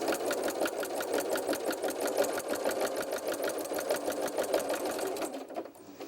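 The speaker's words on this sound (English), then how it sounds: "let's put that back in and finish that seam off" A sewing machine stitches a seam on a baby bib, running in a fast, even mechanical chatter close by before stopping abruptly near the end.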